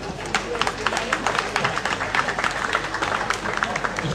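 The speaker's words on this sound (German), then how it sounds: "Auf jeden Fall gibt es schon mal einen Beifall für die Mutiger hier." Audience applause breaking out at an event, dense steady clapping from a crowd that holds at an even level throughout, with a voice briefly heard over it.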